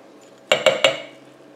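A metal utensil strikes a pot three times in quick succession while stirring lye into water for cold-process soap, sharp close clinks with short ringing decay in an otherwise quiet room.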